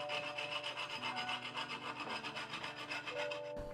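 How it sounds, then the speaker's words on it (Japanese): A steel file rasps steadily across protruding fret ends along the edge of a vintage guitar's wooden fingerboard during restoration, with close, continuous scraping strokes and no pauses until a brief stop near the end. "フレットサイドのはみ出ている部分を鉄やすりで削っていきます。"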